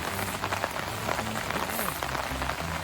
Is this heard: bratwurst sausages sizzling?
no